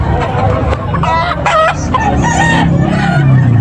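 An 18-month-old yellow-legged rooster at a busy poultry market in Tabunok, Talisay, Cebu crows loudly and close, set against steady crowd chatter, with other birds clucking around it.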